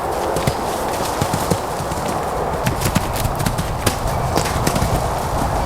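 Horse hooves clip-clopping in a steady, rhythmic gait on firm ground during ditch training, fairly close, with faint background ambience and no talking.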